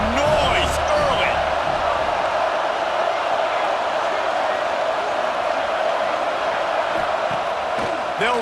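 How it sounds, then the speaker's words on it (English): Stadium crowd in the video game EA Sports College Football 26: a dense, steady roar of many voices, loud and unbroken throughout, with a few faint shouts poking through near the start and end. "This crowd bringing the energy and noise early."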